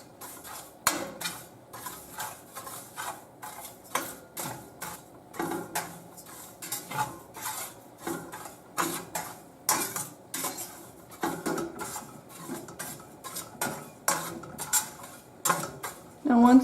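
Lentils toasting dry in a hot skillet for Lebanese lentils, giving close, irregular clinks, scrapes and small pops with stirring, repeating steadily and moderately loud throughout.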